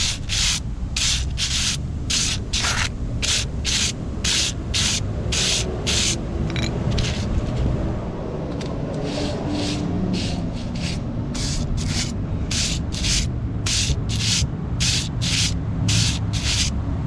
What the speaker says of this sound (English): Here I have 60 grit sandpaper. Just gonna go forward and back.